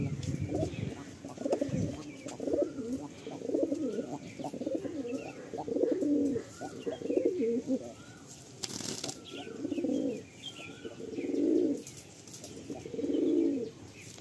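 A Madrasi pigeon, just released, coos in repeated low, throaty phrases, with a few wing flaps and faint chirps in the background and a steady rhythm of calls toward the end.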